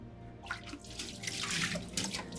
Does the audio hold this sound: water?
yes